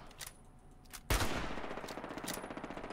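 Rapid automatic gunfire in the video game Fallout 76, a few faint shots followed by a loud sustained burst of close, rattling machine-gun fire with no talking over it.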